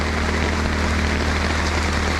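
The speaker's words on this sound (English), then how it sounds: "Still raining." Steady rain falling on a camping tent in Thailand, an even, dense patter and hiss that continues without a break.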